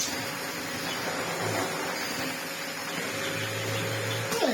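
A Lux vacuum cleaner with a short hose runs with a steady, moderately loud motor drone and airflow hiss, close by and without talking.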